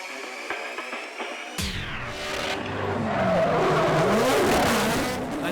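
Drift cars slide into the Achilles Radial hairpin at an Australian Drifting GP round, engines suddenly roaring and tires squealing in a long, loud, building skid after a quieter start.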